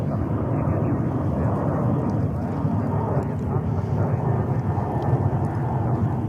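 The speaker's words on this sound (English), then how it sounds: "Delta, also coming in from Rome, the same airport, Fiumicino" A Delta airliner arriving from Rome Fiumicino at New York JFK makes a steady, loud jet roar throughout, with someone talking over it.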